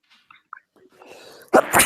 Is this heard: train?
no